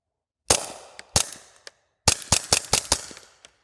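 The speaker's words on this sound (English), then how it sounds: "These are 20 grain supersonic projectiles out of a GSG 1911 with an innovative RM sound suppressor provided by Silencer Shop" Suppressed .22 pistol shots from a GSG 1911 fitted with an RM suppressor, firing 20 grain supersonic rounds: two sharp cracks, a pause, then a quick string of about six shots, loud and close with no talk.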